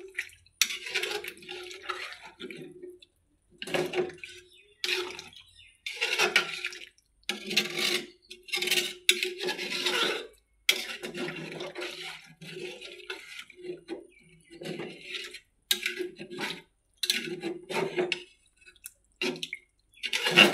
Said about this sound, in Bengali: এই যে আমি পানি দিয়ে দিচ্ছি।